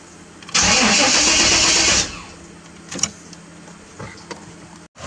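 A Chevrolet Z71 truck with a transplanted engine and a loose gas line cranks and briefly catches, a loud, close mid-pitched roar lasting about a second and a half, then shuts off, followed by quiet clicks and knocks.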